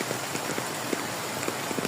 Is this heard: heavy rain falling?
yes